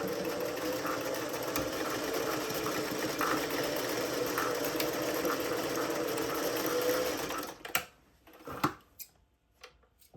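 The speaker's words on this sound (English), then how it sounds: "And I'm going to sew that inner corner of my box edge." A sewing machine runs steadily, stitching the inner box corner of a feed bag tote, a close, continuous mechanical whir that stops near the end, followed by a few brief handling clicks and taps.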